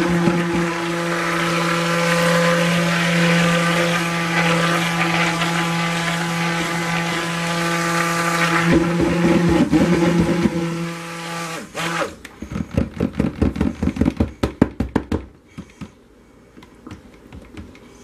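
A stick blender buzzes steadily through colored cold process soap batter for black cherry soap, then the motor stops and is followed by clattering, knocking handling sounds as the blender is tapped clean.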